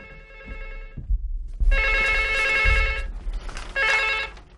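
A telephone rings in a domestic scene from a 1994 Omani drama series, sounding in two loud electronic bursts, separated by a pause filled with low thumps and movement.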